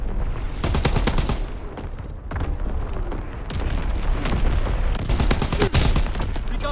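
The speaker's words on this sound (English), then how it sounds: "Firing division artillery" Division artillery firing in a multiplayer military video game: a dense barrage of sharp shots and booming impacts in rapid succession, loud and sustained throughout with no pauses.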